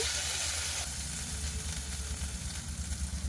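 Spiced masala fries with pond-caught teli crab in a pan, giving a steady, even sizzle at close range that carries on without a break under occasional soft talk.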